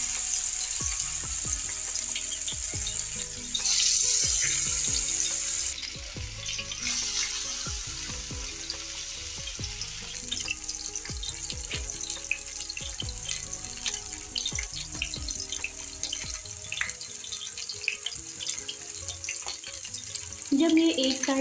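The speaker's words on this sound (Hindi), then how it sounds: "अब हम इसमें फ़िश के पीसेस जो हमने 20 मिनट के लिए रख दिए थे, अब हम इसमें फ्राई करना स्टार्ट करेंगे" Fish pieces frying in hot oil for a restaurant-style Indian fish fry give off a steady, hissing sizzle that runs throughout, with background music beneath it.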